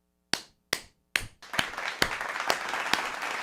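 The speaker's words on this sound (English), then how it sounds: "Let's give a round of applause for Aidan Hutchinson, huh?" A few isolated hand claps ring out close and sharp, spaced apart, then more join into a thickening patter of applause with occasional louder claps standing out.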